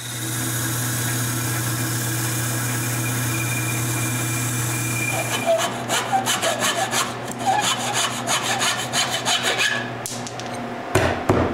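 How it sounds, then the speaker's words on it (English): A wood lathe spins a chair rung with a steady motor hum, joined midway by loud scraping and rubbing bursts of a tool cutting the turning wood. "I can go to the lathe and turn another rung"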